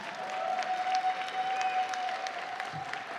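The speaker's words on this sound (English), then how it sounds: "Another big round of applause for the scholarship recipients." Audience applause for scholarship recipients at an alumni association gala fundraiser, a steady wash of clapping with a faint sustained tone running underneath throughout.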